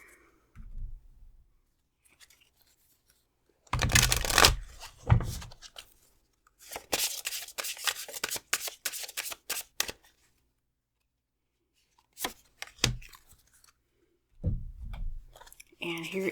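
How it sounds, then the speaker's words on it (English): Bursts of rapid papery riffling as a deck of oracle cards is shuffled, several rounds separated by pauses, close and fairly loud. "Didn't shuffle that very well the first time"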